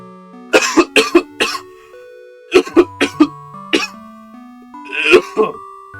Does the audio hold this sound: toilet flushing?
no